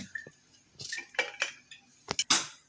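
Raw green mango being chopped into small pieces with a knife on a board in a home kitchen, giving a handful of sharp, close knife taps and clinks at uneven intervals, with no talking.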